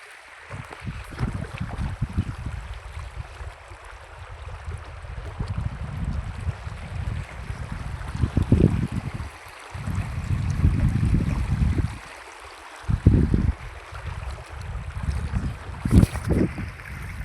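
A river swollen after three days of heavy rain rushes along in a steady, rumbling surge, with gusts of wind buffeting the microphone and no voices.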